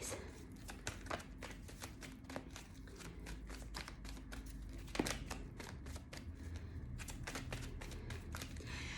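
Tarot cards shuffled by hand, a rapid run of riffling flicks and soft taps close up, with occasional card slaps as cards are drawn, and no talking.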